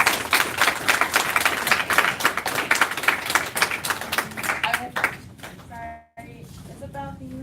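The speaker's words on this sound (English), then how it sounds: "Let's give Jamar a round of applause." A crowd at a police seminar claps for several seconds, dense and lively, then the applause trails off into quiet room noise with a few faint sounds.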